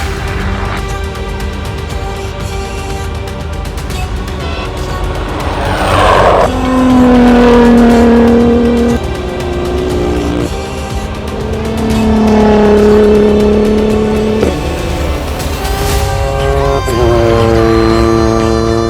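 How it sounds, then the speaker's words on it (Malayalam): Rally cars pass at the Dakar Rally, their engines roaring and rising and falling in pitch as they go by one after another, loud and close against steady background noise. "ബൈക്ക് പോകുന്നത് നമ്മൾ കണ്ട്, കോഡ്സ് പോണ കണ്ടത്, കാർ പോണ കണ്ട്"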